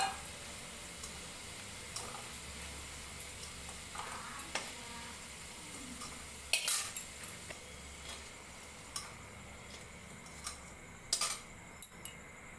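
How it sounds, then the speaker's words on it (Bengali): Fried potatoes are lifted from a pan into a bowl amid quiet residual frying, with scattered sharp metallic clinks and taps of a utensil against cookware, irregular and close. "এখন আমি আলুগুলোকে একটা বাটির মধ্যে তুলে নিই।"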